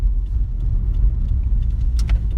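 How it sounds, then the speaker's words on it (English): A 2016 Subaru WRX engine idles with a deep, steady exhaust burble through quad tips, low rumble throughout with a few small clicks and jingles near the end. "The iconic Subaru burble is very much present in this car."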